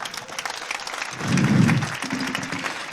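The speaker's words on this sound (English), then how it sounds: "ladies and gentlemen, may I have a big applause for this" Audience applause in a conference and festival plenary hall: a swell of clapping from a crowd that rises, peaks for about a second, then settles into lighter clapping, all fairly loud and close.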